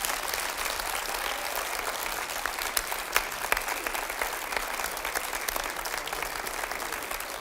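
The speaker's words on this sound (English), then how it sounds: "Please give all of our candidates a big hand, big round of applause" An audience at a city council candidate forum claps, a dense steady round of applause from a sizable crowd filling the room, with a few sharper claps standing out.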